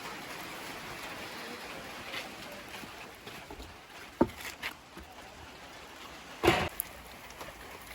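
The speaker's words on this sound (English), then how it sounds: "It is raining right now" Rain falls steadily on a village morning, a soft continuous hiss with a few faint drips and knocks, quiet and even throughout.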